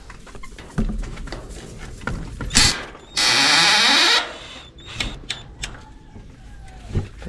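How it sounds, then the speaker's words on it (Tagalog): A power tool drives out wood screws to free boards from a chicken coop, giving short whirring bursts and one longer sustained whine among clunks and taps. "Mabilis lang tanggalin mga kanipi dahil ganyan lang naka wood screw lang."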